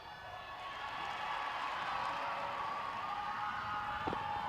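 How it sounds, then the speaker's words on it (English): A netball crowd at South Africa v Jamaica cheering and applauding, a broad steady roar of many voices and clapping, distant and sustained throughout. "Crowd enjoying that one."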